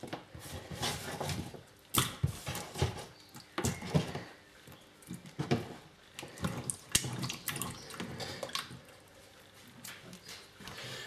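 Cut potatoes dropped into a bowl of water in a kitchen, soft splashes and plops in irregular bursts, with sink and tap-like water sounds in between, all fairly quiet.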